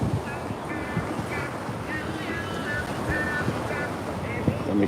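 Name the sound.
ocean waves on Coney Island beach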